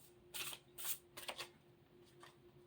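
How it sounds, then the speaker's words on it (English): Mediumship training cards being handled and shuffled, several quick, close papery riffles and flicks in short bursts, fairly quiet with no talk. "these are the mediumship training cards"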